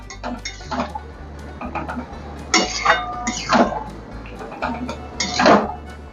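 Spoon or spatula clinking and scraping against a pan while bitter gourd curry is stirred, a few bursts of clatter over a steady low hum from a nearby stove or fan.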